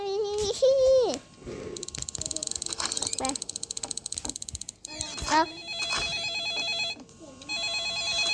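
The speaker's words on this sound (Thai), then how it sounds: "เสียงโทรศัพท์ อยู่ห้องนี้เหรออุ้ย" A telephone rings inside a Roblox game, with repeated electronic ring bursts alongside other bleeping game sounds and effects, while a voice talks over parts of it.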